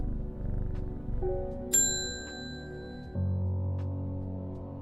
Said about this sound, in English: why is nothing happening when I hit the bell?